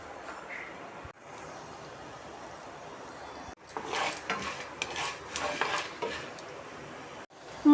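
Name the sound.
tempering urad dal, mustard, cumin and chana dal in oil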